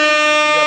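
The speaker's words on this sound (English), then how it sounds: "it comes with the DJ air horn" A DJ air horn sound effect blares loud and steady, one continuous sustained blast with no voices.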